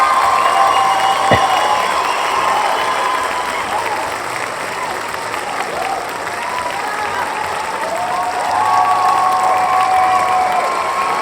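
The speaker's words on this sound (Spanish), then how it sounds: "Vamos a darle un fuerte aplauso a nuestra invitada de hoy" Audience applause welcomes a female guest onto an educational talk program, a steady sustained wash of clapping from a studio crowd that holds across the whole stretch with a faint undertone of voices.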